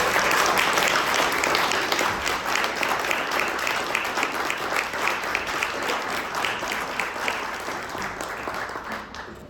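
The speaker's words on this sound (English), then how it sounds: "a round of applause for these past winners." An audience claps steadily for several seconds, a dense wash of applause that gradually thins toward the end.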